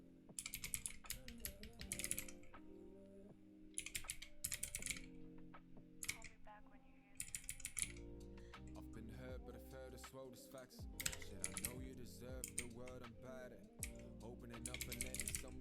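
Steady typing on a split computer keyboard, bursts of clattering keystrokes coming and going, fairly close but quiet, with some background sound in between.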